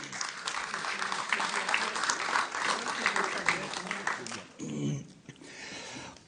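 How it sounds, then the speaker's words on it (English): Crowd applause at a local election candidates' evening, steady and moderately loud for most of the stretch, then cutting off as a voice speaks near the end. "Why don't you give a beautiful round of applause for them being here tonight?"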